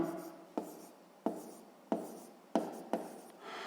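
Pen writing out numbers for a grade-6 math division problem, scratching on paper in about six short strokes at a steady rhythm, close and fairly quiet with no talk.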